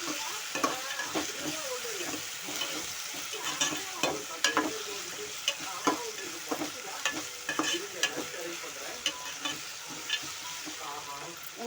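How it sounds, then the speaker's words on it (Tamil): Ginger garlic paste frying in a pan for egg gravy, with a continuous sizzle and frequent scraping clicks of a spoon stirring through it, close and clear with no talking. "இஞ்சி பூண்டு பச்சை வாசனை போகிறதுக்கு கிட்ட வேக விடணும்."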